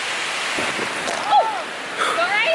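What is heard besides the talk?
big waterfall in the Chiang Mai jungle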